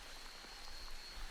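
Heavy rain falls in a forest, a dense constant hiss of drops with scattered individual patters, steady throughout with no voices.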